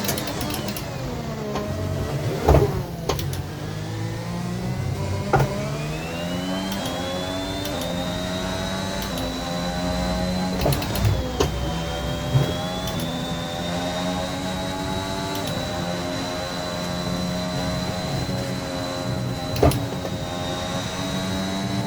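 An F1 car lapping the Jeddah circuit in the F1 2021 video game, a continuous high engine whine rising and falling through gear changes and corners, with occasional short clicks and bumps.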